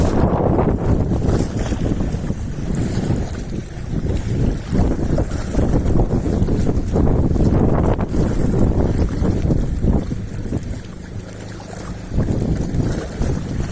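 Gusty wind roars continuously across a small fishing boat on open water during ultralight casting, loud and unbroken, buffeting the microphone with no clear speech.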